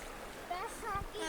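Water splashes and swirls steadily as people wade through a Finnish river at high water, under a voice talking nearby.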